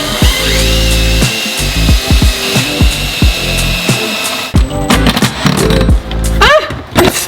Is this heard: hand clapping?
no